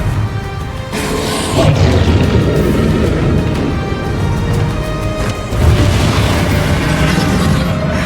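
Confringo and Bombardo spells exploding in the Hogwarts Legacy video game, loud booming blasts with a burst near two seconds and another near six, rumbling debris between them.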